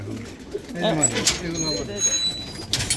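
Domestic pigeons from a large commercial flock in Keraniganj coo repeatedly, soft throaty calls close by, with chirps and a voice mixed in.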